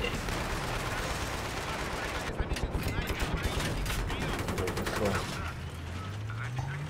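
A tank video game battle: a steady rattle of machine-gun fire and a sharp run of rapid shots, set against a low engine drone, with a voice talking over it.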